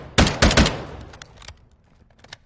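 A gun fires in the video game Fortnite: three sharp, loud shots close together, then a few fainter pops as the sound trails off, with no talking.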